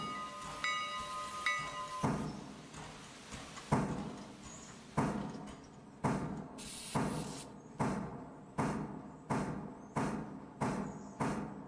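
A passenger train approaches on a 1950s U.S. railway in the Railroader video game, its wheels striking rail joints in a steady, evenly spaced series of loud clanks that grow stronger, with no talk.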